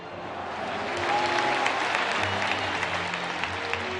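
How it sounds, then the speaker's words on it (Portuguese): A crowd applauds in tribute to the Chapecoense plane crash victims, with sustained, building clapping and a low murmur of voices beneath. "todos pudessem dar uma salva de palmas àqueles irmãos que se foram"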